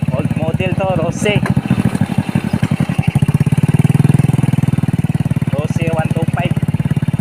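An old-model 125 motorcycle engine rides along a muddy, rough rural road, giving a loud, steady chugging pulse that rises and falls, with someone talking over it at the start and end.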